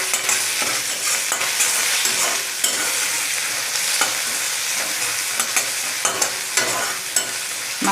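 Onions and cumin seeds stirred and frying in a pan over a low gas flame, a steady close sizzle broken by repeated scraping strokes of the spoon.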